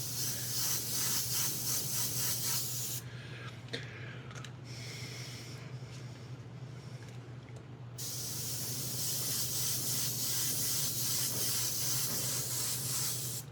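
An airbrush sprays paint in long continuous hissing bursts, broken by a quieter stretch of short, sputtering puffs before steady spraying resumes, close and fairly soft.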